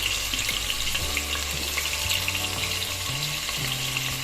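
Marinated chicken pieces fry in hot ghee for biryani, a steady loud sizzle with low crackling bursts as pieces hit the pan, no talking.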